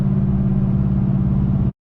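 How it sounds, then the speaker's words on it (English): A turbocharged engine revs steadily as the throttle is rolled on and boost builds, a loud, continuous near drone that cuts off abruptly near the end. "Roll on the throttle a little bit again. So you can see the boost just comes right in."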